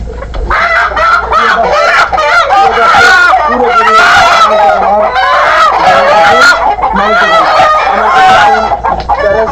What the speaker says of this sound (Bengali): এই দেখেন আমি আপনাদেরকে একটা মুরগি ধরে দেখাচ্ছি